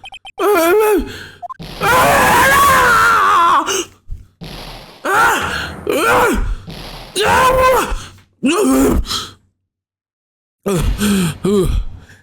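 A dramatic scream from the courtroom game Phoenix Wright: Ace Attorney, loud strained vocal cries and groans in several bursts separated by short silences, up close.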